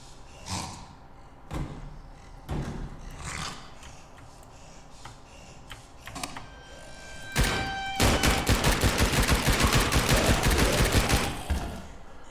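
Gunfire in the zombie-shooting game Zombie Hunter inc: spaced single shots with mechanical clicks, then a dense rapid burst of automatic fire near the end, loud and close.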